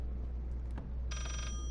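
An old-fashioned telephone bell rings once inside a creepy house in a horror video game, a short, bright trill heard over a low background hum.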